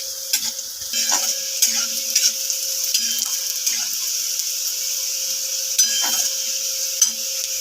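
Cashews and raisins fry in a pan with already-fried vegetables for fried rice, giving a steady close sizzle broken by repeated scraping stirs at an uneven rhythm, with no voices.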